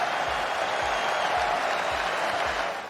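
A cricket crowd at Emirates Old Trafford during an Ashes Test claps and cheers in a dense, sustained roar of applause, loud and continuous before easing slightly at the end.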